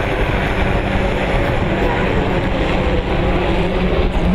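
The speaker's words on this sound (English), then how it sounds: "All those boats out going round Marine Drive, jumping the waves" Two-stroke P1 powerboats race at sea off Scarborough's Marine Drive, a loud, dense engine drone sustained throughout with wind and water noise mixed in.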